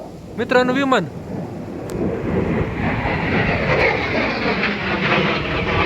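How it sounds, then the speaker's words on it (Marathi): A person speaks briefly, then a distant airplane's low, steady roar spreads across the sky, a broad rumble from high overhead. "मित्रांनो विमान लय वरनं चाललंय विमान."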